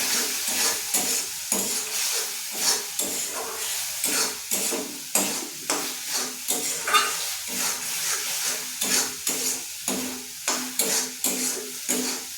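A mushroom curry is sautéed in a pan, with a loud sizzle and a spatula scraping and stirring in a brisk, repeated rhythm that continues for several seconds.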